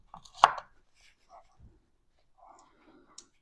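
A knife dices frozen fat on a cutting board, with one sharp chop near the start followed by a few faint scraping taps in a quiet room.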